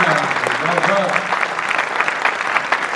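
Clapping rises from the audience at a Hindi poetry recital, a moderate patter of hands with voices talking over it.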